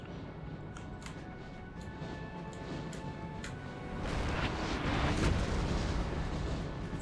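Twelve-pounder cannon fire in Napoleon: Total War, a steady battlefield din of distant booms and rumble that swells louder and denser partway through, with no voices.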